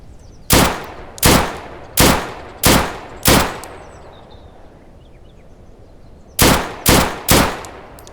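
A basic pistol in the survival shooter game Deadside fires sharp, loud single shots in a steady rhythm, five in a row, then a pause, then three more. There is no talk.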